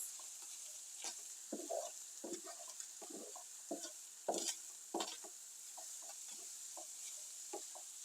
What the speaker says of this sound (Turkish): Şimdi hep beraber şöyle bir 3-5 dakika daha tıngırdatacağız, kavuracağız.